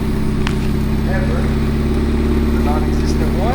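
A 30-year-old Mazda Miata's engine hums steadily up close as the manual car eases away in reverse, a constant mid-pitched drone with faint squeaks over it.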